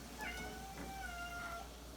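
Two or three close, clear meows from a cat in a kitchen where eggs are being cooked, rising and falling in pitch over a low background hum.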